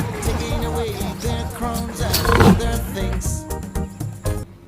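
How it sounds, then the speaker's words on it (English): A lion roars in a children's alphabet song, one loud rumbling roar mixed into backing music, with singing voices around it. "L for lion."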